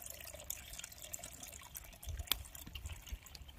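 Water pours and drips steadily from an old 5.5 HP borewell motor pump during fitting, a faint continuous trickle with a few sharper splashes midway.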